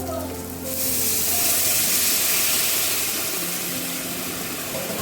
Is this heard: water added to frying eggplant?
yes